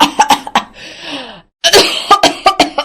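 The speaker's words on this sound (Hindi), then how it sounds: "खांसते हुए कहती है" A woman coughs repeatedly in short bursts as dust and dirt fly up from wheat being spread across a courtyard, close and loud, with a brief silent gap before another round of harsh coughs.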